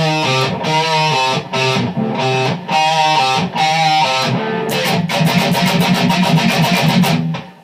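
Distorted electric guitar plays the intro riff of a song alone: chugging chord stabs with short gaps, then a run of rapid, evenly picked staccato hits near the end. Loud and close, with no talking.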